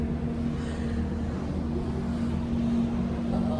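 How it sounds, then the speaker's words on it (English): A boat engine drones with a low, steady hum, mixed with wind and water noise throughout, off Aruba. "Cue the boat."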